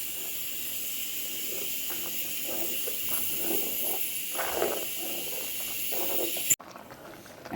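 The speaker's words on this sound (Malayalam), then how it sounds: "നമ്മളെ കറി നന്നായിട്ട് തിളച്ചിട്ടുണ്ട്." A fish curry with turmeric and chili powder simmers at a steady boil in the pan, giving a continuous bubbling hiss throughout before it cuts off abruptly near the end.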